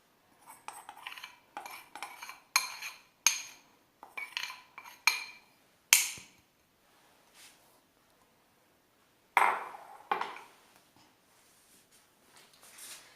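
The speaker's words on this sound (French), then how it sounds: "Donc je vais mélanger à l'aide d'une fourchette." A fork mixes sugar and other cookie ingredients in a bowl, giving bursts of quick scraping clinks against the dish in short irregular bouts, with a couple of sharper knocks and quiet pauses between; no one talks.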